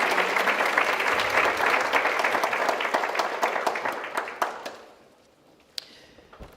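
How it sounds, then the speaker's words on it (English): An audience at an organisation's office bearers and active workers conference claps for the trustees, a steady dense applause that holds for several seconds and then fades out. "I would like you to give them a round of applause"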